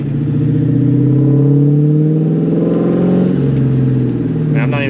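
A New Edge Ford Mustang GT with a catless X-pipe exhaust revs loudly and close by, its deep, throaty engine note rising and holding steady before easing off slightly near the end.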